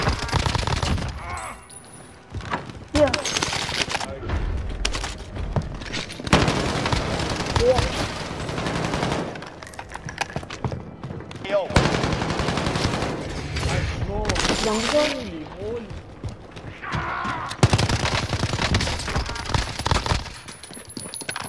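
Call of Duty Warzone gunfire during a Halloween event match crackles in repeated bursts and single shots, near and loud at times, amid booms and shifting battle noise with voices talking over it.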